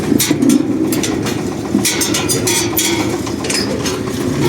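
A SHIFENG SF-240 mini tractor drives through milled soil planting potatoes, its engine rumbling loudly and steadily up close with rattling, clattering mechanical noise throughout.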